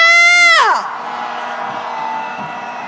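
Protest crowd at an anti-Yoon Suk-yeol candlelight impeachment march on a rainy day, letting out a loud collective roar and whoops that surge for half a second, then settle into a sustained crowd din.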